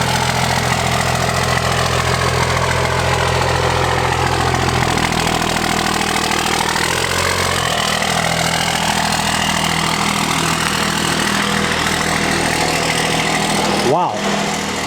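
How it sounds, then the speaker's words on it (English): Cummins diesel truck with a very loud exhaust idling close up, a deep steady rumble that shifts pitch slightly midway, with a brief knock near the end and no talking. "That exhaust is so flippin' loud."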